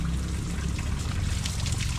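Cold spring water trickles and splashes steadily from beneath a bridge beside a flood control project in Davao City, a close, continuous rushing wash with no voices.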